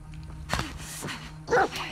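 A dog barks in The Last of Us Part 2, two sharp close barks among game noise and faint sounds, with no talking.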